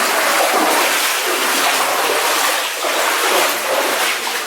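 Someone wades through water inside an old gold mine tunnel, a continuous loud churning and sloshing close by that swells and dips slightly with each push forward.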